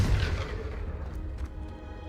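A Confringo spell explodes in Hogwarts Legacy, opening with a deep booming burst that quickly decays into a rumbling tail, with a few faint crackles after it and no voice during it.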